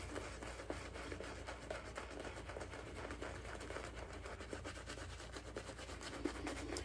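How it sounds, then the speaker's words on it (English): A shaving brush scrubs soap lather over a face in a steady, close, bristly rubbing and scratching that runs continuously at low level, with quick repeated strokes. "I like to splay the brush. I like to get some scrub in there."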